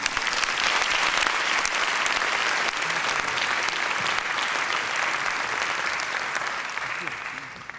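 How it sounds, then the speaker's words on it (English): A full room applauds at an awards and medals ceremony: loud, continuous clapping from many hands, holding steady for several seconds before easing slightly at the end, with no voices on top. "I ask for your applause for Jane."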